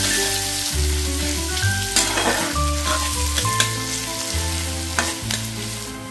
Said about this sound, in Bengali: হালকা লালচে করে একটু ফ্রাই করে নিতে হবে পেঁয়াজটা।